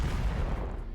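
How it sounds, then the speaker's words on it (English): Cannon fire in the tactical roguelike game The Last Spell, a heavy booming blast with a deep low rumble that fills the whole moment and slowly fades. "go straight onto the boss with a cannon"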